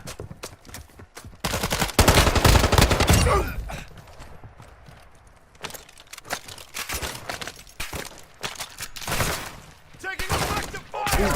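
Gunfire in a first-person shooter video game, with rapid bursts and single shots cracking loudly throughout, some close and some further off, mixed with clattering effects and brief team voice chat.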